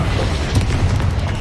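A Confringo spell explosion in Hogwarts Legacy is heard as a loud, dense, low-heavy boom. It rumbles steadily for over a second with faint crackling bursts on top, close and with no voices.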